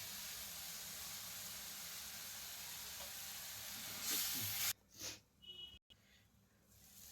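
Ginger paste sizzles steadily in a hot pan for egg fry curry, a broad continuous hiss that swells briefly and then cuts to quieter, uneven bursts near the end.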